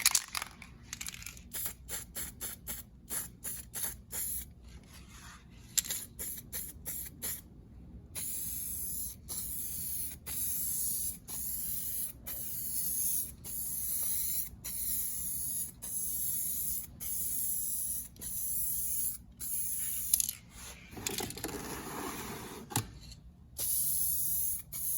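Gloss yellow paint is sprayed onto a hot rod hood in a long run of sharp, hissing bursts, some short and some sustained, with brief gaps between passes and close, fairly loud spray noise throughout.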